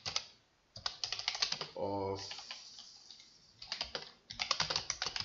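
Bursts of rapid keyboard typing, close and clicky, broken by pauses and a brief spoken word in the middle.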